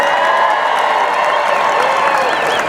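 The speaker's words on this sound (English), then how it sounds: "They all deserve a great round of applause" A large crowd at the Alabama national championship celebration in 2018 gives loud, sustained applause with cheering and whoops, a dense continuous roar for the championship team and coaching staff.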